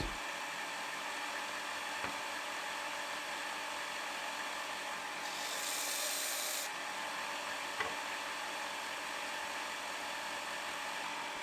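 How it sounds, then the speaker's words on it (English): A belt and disc sander grinds down a wooden zero-clearance insert plate for a Laguna Fusion 3 cabinet saw. It gives a steady motor drone with a brief louder, harsher stretch of sanding contact midway and no talking. "Then it was back and forth using the belt and disc sander to adjust the height of the insert plate."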